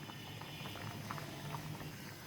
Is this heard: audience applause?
no